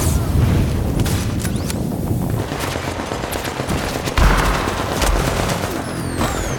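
Turret gunfire in the shooter The Division, sustained rapid bursts of shots mixed with booming impacts, loud and continuous throughout, with a heavier hit partway through.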